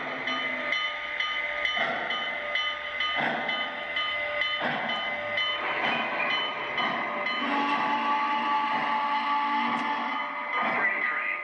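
The Freedom Train 4449 steam locomotive rolls along with steady, moderately loud rumbling and rhythmic clanking, while radio-style voices speak over it throughout.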